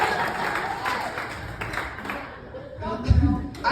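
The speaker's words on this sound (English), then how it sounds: "that deserves like a round of applause" Comedy club audience at a Don't Tell Comedy show in Santa Rosa breaking into applause and cheers, a broad wash of clapping mixed with crowd voices, swelling near the end.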